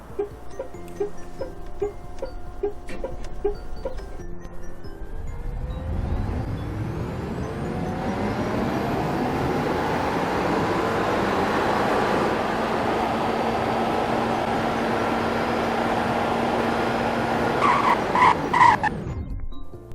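A GM EV1 in the Roblox game Greenville backs up in reverse, giving a steady electric whine and broad road roar that swells and holds for about fifteen seconds, then cuts off with a few clicks.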